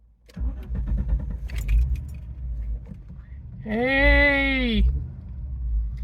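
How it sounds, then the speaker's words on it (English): An Audi 4000 Quattro engine cranks and catches, settling into a steady low rumble with keys jangling near the start, while a voice calls out briefly over the running engine. "Let's give this car a start."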